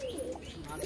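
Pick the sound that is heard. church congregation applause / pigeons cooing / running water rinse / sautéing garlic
pigeons cooing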